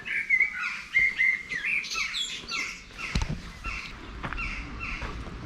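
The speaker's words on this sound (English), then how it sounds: "Birds in the trees." Several birds chirp and twitter in trees in quick, bright bursts, fairly close, along the Middlewood Way near Higher Poynton, with a faint outdoor rustle and a soft thump beneath.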